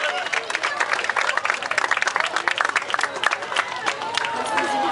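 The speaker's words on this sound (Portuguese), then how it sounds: "Vamos aplaudir." Crowd lining a Schützenfest parade in the Nereu Ramos neighbourhood applauds with dense rapid clapping, lively and fairly close, swelling and dipping across the stretch with scattered voices mixed in.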